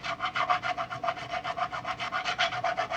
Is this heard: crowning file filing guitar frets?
yes